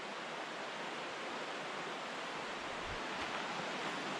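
Big Creek water flowing beneath a trail bridge in Olympic National Forest, Washington, a steady broad rushing wash that stays even and constant throughout.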